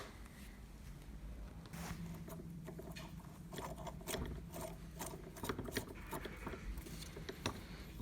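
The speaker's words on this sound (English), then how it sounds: "I'm using a bottoming tap to rethread all this" A bottoming tap rethreads a worn Pony vise, giving close, faint scratchy rasping and irregular clicking scrapes in uneven bursts, with no voices.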